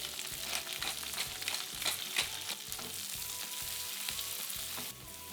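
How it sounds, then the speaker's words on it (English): Spinach sautéing with salt and pepper in sesame oil over high heat, a steady close sizzle with repeated scraping and stirring strokes throughout, no talk. "Cook the spinach now. Add a little more sesame oil and add the spinach"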